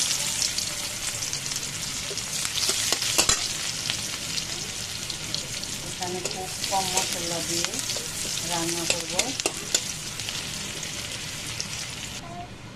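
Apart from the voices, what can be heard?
onions frying in pan for hilsa with bitter gourd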